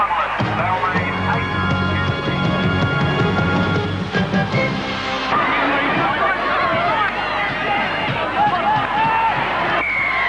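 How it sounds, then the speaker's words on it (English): Rugby league crowd at Leichhardt Oval during a 1985 Canterbury versus Balmain match, a loud sustained roar and babble of spectators with a commentator talking over it. "the crowd are roaring here at Leichhardt"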